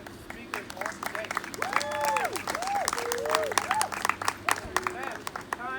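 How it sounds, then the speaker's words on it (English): A crowd at a graduation ceremony applauds steadily with scattered clapping and a few cheers, while a voice sings or calls out over the sustained applause. "let's go ahead and give another round of applause to both our commencement speakers"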